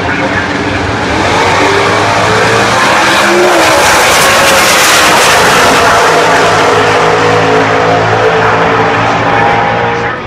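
Drag race cars at the Chevrolet Performance U.S. Nationals roar down the strip in one sustained, very loud blast of engine noise that swells and then eases slightly near the end.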